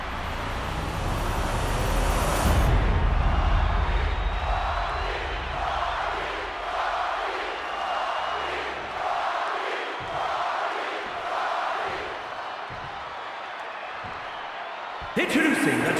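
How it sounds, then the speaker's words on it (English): A roaring wrestling arena crowd in WWE 2K26 swells in rhythmic, chant-like pulses, building loudly before easing off and breaking into a sudden sharp burst at the end. "And the roar of this crowd is absolutely deafening."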